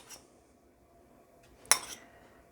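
Metal spoon against a mixing bowl holding sugar, as margarine is scraped in: a faint clink early on, then a sharper scrape-and-clink near the end in an otherwise quiet kitchen.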